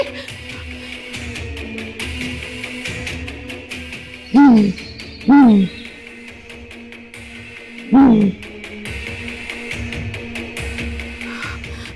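Three loud hooting calls from a human voice imitating an owl, spaced a second or more apart, over a steady outdoor background.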